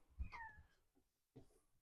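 A house cat meows indoors: a short, close call near the start, then a fainter second sound after a brief pause.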